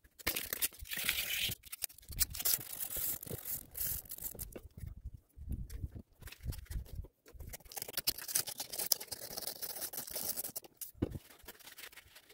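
Wet and dry abrasive paper rubs over a salvaged metal bearing in quick, uneven scratchy strokes, close and fairly quiet, broken by short pauses between passes.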